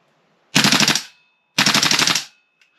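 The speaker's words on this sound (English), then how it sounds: "If we have a quick look at something like the completely standard mag, full auto fire, versus the Guns Modify." Tokyo Marui MWS airsoft gun with a Guns Modify magazine firing two loud full-auto bursts, each about half a second of rapid, evenly spaced shots, separated by a one-second pause, then near silence.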